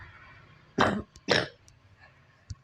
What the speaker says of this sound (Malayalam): ഭയങ്കര ചുമ കേട്ടോ